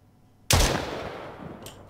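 A single loud shotgun blast from a weapon built in Unreal Engine 5, hitting sharply and then decaying over about a second, followed by a faint short click.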